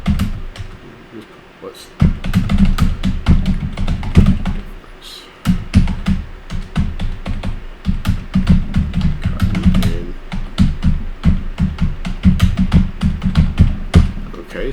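Rapid close-up typing on a computer keyboard, a dense patter of clicks and key taps with short pauses, while a voice talks briefly over it.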